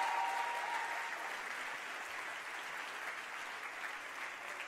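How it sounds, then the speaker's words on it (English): Clapping from a crowd at a tech summit in New York, a dense even roar of many hands, sustained and moderately loud, with a brief tonal whistle at the start. "let's give a round of applause to these people."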